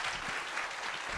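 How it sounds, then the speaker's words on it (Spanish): An audience at an inspirational speaking event claps, a short burst of steady, moderately loud applause filling the whole moment. "pues te despedimos y damos la bienvenida un aplauso, por favor."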